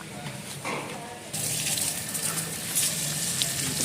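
Water gushes steadily onto coconut saplings in a home garden soil bed, starting quieter then swelling into a fuller, hissing pour that continues close by without talk.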